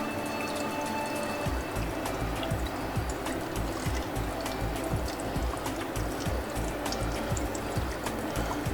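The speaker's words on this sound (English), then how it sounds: "to which I'm going to go ahead and add red wine vinegar" Red wine vinegar pours into a bowl of chopped garlic and parsley, a steady close liquid trickle with a faint kitchen hum and no talking.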